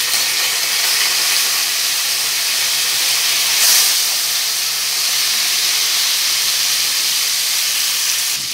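Chicken meat pan-frying for an egg tofu stew with moringa, a steady, loud, broad sizzle that hisses evenly throughout with a brief swell partway through, with no voices over it.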